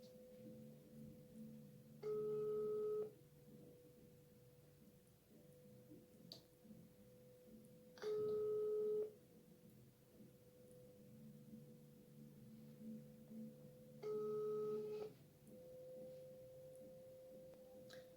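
An outgoing video call on a phone rings out, three short electronic ringback tones spaced about six seconds apart over a faint steady hum, with no talk.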